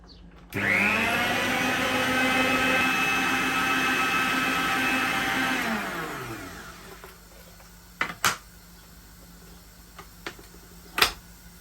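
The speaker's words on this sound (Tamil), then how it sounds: "இப்போ நான் எடுத்து வச்சிருக்கிற இந்த வெள்ளை கருவை இதுக்கு விட்டு அடிக்க போகிறேன்" An electric mixer beats egg whites into sugar for a vanilla cake, whirring loud and steady for about five seconds before spinning down. A few sharp clinks follow.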